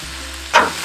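Pepper strips dropped into a pan of frying onions for bistec ranchero, a low steady sizzle that swells into a sudden brief hiss as they hit the hot oil, then settles.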